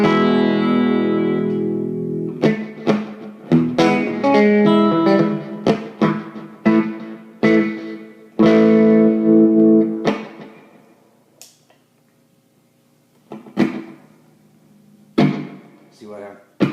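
Electric guitar strums and picked chords through a Toneconcepts Distillery pedal and Fishman mini Loudbox amp, with a short slapback echo trailing each hit, loud and close, with pauses between phrases.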